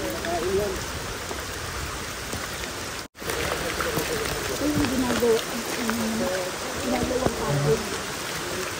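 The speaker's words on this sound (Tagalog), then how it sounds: "Ulan lang ito." Steady rain falls on a mountain trail as a dense, close hiss of drops that runs almost unbroken, with faint voices underneath.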